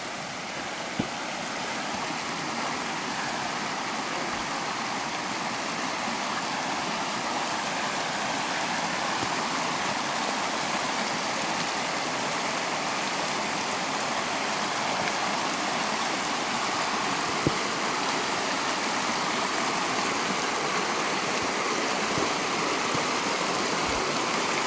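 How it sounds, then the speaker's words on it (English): A creek rushing steadily past at a campsite in the Mogollon area, a loud, constant broadband wash of flowing water with no pauses, close by and uninterrupted by voices. "I think I'm coming too close to the creek now"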